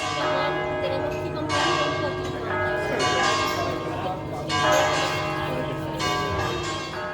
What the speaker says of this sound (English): our time at this restaurant was soon cut short by the incessant ringing of the bells